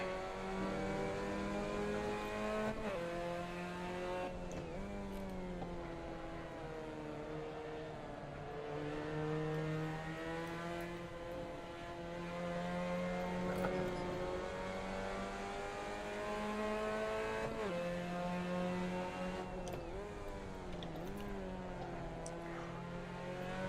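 A Mazda MX-5 race car engine in a racing video game drones steadily and loudly throughout, its pitch rising and dipping with throttle and gear changes, with no voices on top.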